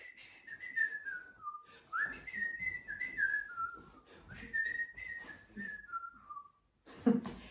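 A melodic tune blown on a whistle, clear and fairly close, with phrases that slide up and down, pausing briefly before a last short note.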